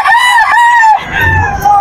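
Several two-way cross roosters crow loudly and close by, long drawn-out calls overlapping one another, with a second crow starting as the first trails off.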